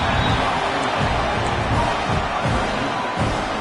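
Stadium football crowd roaring continuously at loud volume, a dense sustained wall of cheering and noise from fans trying to rattle the offense before a fourth-down field goal.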